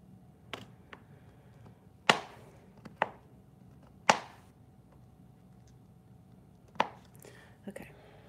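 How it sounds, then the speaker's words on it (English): Handmade soap being cut into smaller chunks with a blade, heard as a handful of crisp, close chopping knocks spaced irregularly over quiet background with faint whispering. "I'm going back and cutting some of the bigger chunks that are in here"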